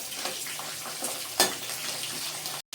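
Cloves, cinnamon, bay leaf and chillies sizzle steadily in hot oil for a Rayalaseema chicken curry, a close continuous crackle with a brief louder burst midway and a sudden cut near the end.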